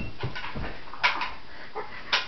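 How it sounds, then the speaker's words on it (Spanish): A dog making short whimpering yips and small barks, a few spaced calls close by with no talk between them. "Ladra el perro."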